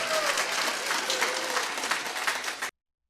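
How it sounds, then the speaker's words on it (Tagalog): A church congregation at a Resurrection Sunday service claps and applauds for Jesus, a loud and dense wash of many hands with some faint voices mixed in, ending abruptly into silence. "Palakpak kini Jesus."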